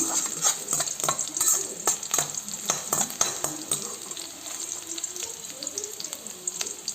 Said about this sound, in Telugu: ఒక స్పూన్ ఆవాలు తర్వాత ఆనియన్ వేసుకునేసి బాగా ఫ్రై చేసేసుకుందాం